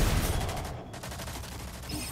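Gunfire in the PS5 shooter Rogue Company, a dense rattle of rapid shots running through the whole moment with only a short dip in the middle.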